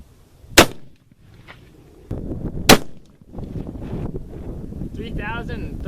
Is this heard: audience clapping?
no